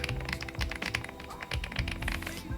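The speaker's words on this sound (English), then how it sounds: "a pre-built plastic keyboard that sounds like this." Close, fast typing on a plastic Epomaker G84 mechanical keyboard, a dense run of bright clacky keystrokes with a few brief pauses.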